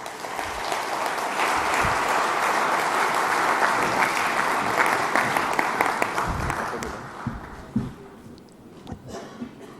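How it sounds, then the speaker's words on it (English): Sustained audience applause fills a live business event hall, a dense, loud wash of clapping that holds steady for most of the stretch, then thins into a few scattered claps near the end. "Huge round of applause"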